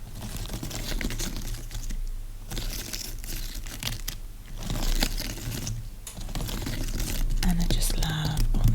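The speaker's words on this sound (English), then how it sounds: "I want to get to all the layers inside the cabbage and be able to kind of scratch along those layers and make some sounds with it" Scratching and crinkling along the inner layers of a large halved cabbage, close and continuous with uneven rustling bursts and soft crunchy textures, no talking.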